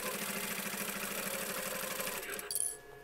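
A sewing machine stitching a thin fabric pencil case with press studs runs as a fast, even mechanical whir, then stops near the end, leaving a few small clicks.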